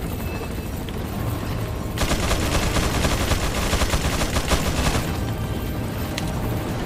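Rapid gunfire in Resident Evil 4, a dense burst of shots running for about three seconds over a steady game backdrop, loud and close, with quieter ambience before and after.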